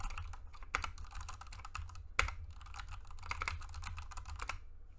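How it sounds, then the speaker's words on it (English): Rapid close typing on a Ducky One2 RGB keyboard with Cherry MX Speed Silver switches, a dense flurry of light clicky keystrokes with occasional louder thumps like a spacebar hit. "I'm gonna start smashing the keyboard."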